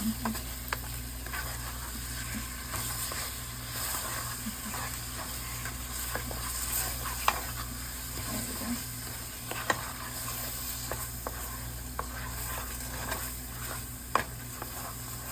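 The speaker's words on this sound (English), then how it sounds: "Mix these together." Ingredients for turkey meatballs are stirred together in a bowl, giving a steady soft wet mixing and scraping texture with occasional light clicks, quiet and continuous without speech.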